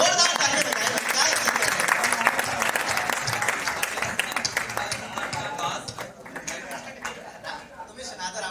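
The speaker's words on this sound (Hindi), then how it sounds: "एक बार जोरदार ताली बजाएं।" At a Hindi poetry recitation, a crowd applauds the poet with loud, dense clapping that slowly thins and grows fainter toward the end, with a few voices murmuring underneath.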